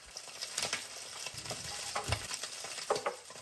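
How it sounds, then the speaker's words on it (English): Chicken thighs sear in oil in a pan over high heat with a close, dense sizzle and crackle, broken by irregular scraping and stirring clatter from a utensil. "we are going to sear the chicken thigh. Then it will be on high heat."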